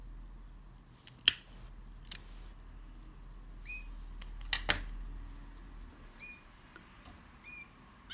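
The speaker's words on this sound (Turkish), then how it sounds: "Çok küçük keseceğiz bunu buradan." Scissors snip organza ribbon while shaping a pomegranate flower, giving a few sharp, close cuts spaced apart over a quiet background.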